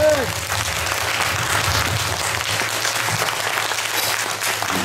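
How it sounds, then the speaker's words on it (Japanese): An audience applauds after a rock band set at a rock festival in a hall at a roadside station in Nikko, a dense, steady wash of clapping for the whole clip with a voice briefly over it at the start. "もう一度大きな拍手をお願いします。"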